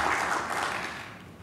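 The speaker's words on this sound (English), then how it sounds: "let's give them a round of applause." An audience at a university lecture applauds in a dense, even patter of clapping that starts full and gradually thins and fades.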